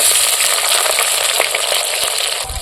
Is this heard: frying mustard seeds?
yes